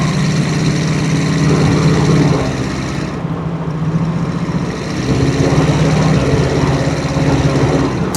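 A 1979 Pontiac Trans Am's V8 runs steadily on a test drive, a loud continuous low rumble with broadband road and cabin noise and a slight dip in level midway.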